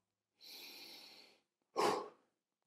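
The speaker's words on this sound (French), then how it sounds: "je vais venir inspirer pendant 3 secondes, puis venir cracher mon air d'un seul coup" One energizing breath done up close: a smooth, airy inhale lasting about a second, a short pause, then a sudden forceful puff of exhaled air, quiet overall and with no speech.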